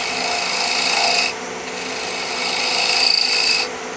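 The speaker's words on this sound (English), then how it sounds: "You want to sand this puppy with 320 and above." Wood is sanded by hand with 320-grit and finer sandpaper in steady rasping strokes, loud and close, with two longer rubbing passes separated by a brief pause, no voices.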